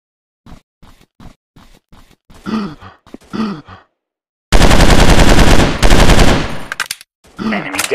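Automatic gunfire rips out in two long, loud sustained bursts in an Android shooting game, following a series of short grunts, sighs and effort sounds.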